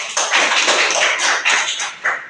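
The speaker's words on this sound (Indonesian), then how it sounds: "mari kita berikan aplaus" Classroom applause rings out during a micro-teaching lesson, a dense burst of many hands clapping together for a couple of seconds, close and fairly loud with no speech over it.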